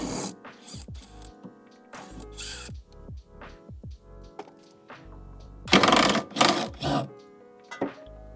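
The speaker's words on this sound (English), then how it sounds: "We'll go ahead and remove this bolt right here on both sides to get this old sway bar removed." A wrench works on sway bar bolts under a 1992 Acura Integra GSR, giving faint intermittent metallic clicks and ratcheting bursts with short pauses between them.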